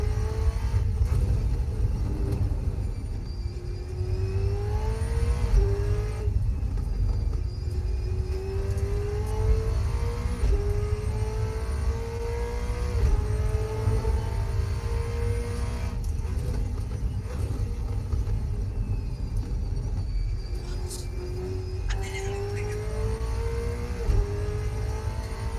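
A Holden race car engine, heard through a game sound mod, revs and accelerates repeatedly in long rising pulls with a steady low rumble beneath, loud and close throughout.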